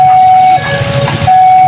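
The Pasundan passenger train passes straight through Cicalengka station on track 2, very loud and close, a sustained horn tone ringing over the rolling rumble of the cars.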